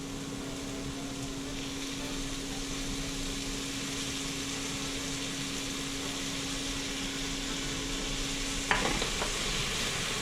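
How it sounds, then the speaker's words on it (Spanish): Chopped onion fries in a pan for beef stroganoff, a dense continuous sizzle with a steady hum beneath and a single sharp utensil knock near the end. "agregamos la cebolla. Secreto del sabor."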